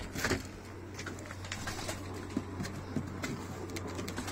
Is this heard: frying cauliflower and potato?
no